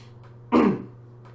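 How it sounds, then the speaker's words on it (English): A single close throat clear, a short rough burst rising out of a quiet room with a low steady hum beneath it. "Of course, I got to clear my throat, of course."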